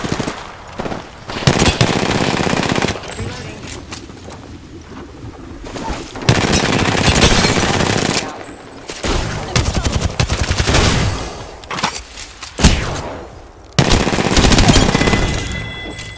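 Bursts of automatic gunfire in the battle royale video game Apex Legends rattle loudly in repeated volleys, separated by short quiet gaps, with no voices over the firing.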